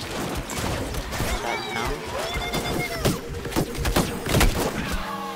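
Rapid gunfire and bursts of shooting from the video game Plants vs Zombies Garden Warfare 2, dense and chaotic with thumps and in-game effects, while a player talks over the action.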